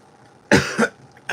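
A man coughs twice in short, harsh bursts at close range, then a third cough starts, with a quiet room around him.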